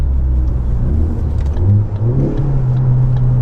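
A tuned car engine revs and pulls hard under throttle with a rising whir of turbo boost, a loud continuous rumble from inside the vehicle.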